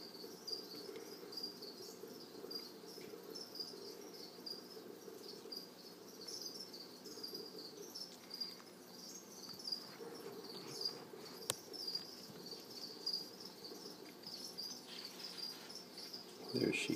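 A cricket, kept as prey in a black widow spider enclosure, chirps in a faint, steady, high trill that runs unbroken beneath low background hiss.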